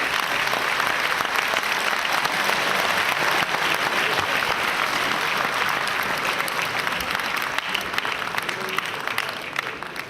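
Sustained applause from the audience at a formal Senegalese bar ceremony, greeting lawyer Maître Doudou Ndoye, dense and steady clapping filling the room for about ten seconds before easing slightly at the end.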